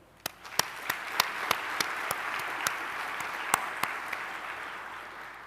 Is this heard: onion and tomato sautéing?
no